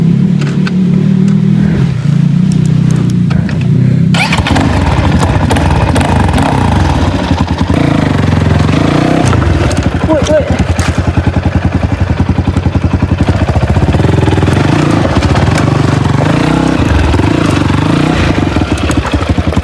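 An illegal dirt bike engine running loud and close throughout, a rough idle that breaks into sustained revving with crackling, misfiring bursts, with no talk.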